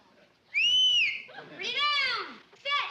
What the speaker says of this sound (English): I'll whistle this way.